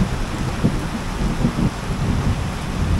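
Heavy mountain rain pours steadily in a dense, continuous roar, with low rumbling underneath and no voices, in the Cordillera at Aritao, Nueva Vizcaya.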